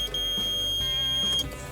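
A multimeter set to continuity gives a steady, high electronic beep lasting over a second while testing a washing machine heater. It sounds close and clear over a faint low hum.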